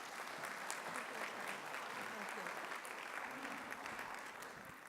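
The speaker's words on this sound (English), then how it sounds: "Please give her a warm round of applause." An audience at a city State of the City event claps steadily in a sustained, moderately distant round of applause that holds evenly throughout and tapers slightly at the end.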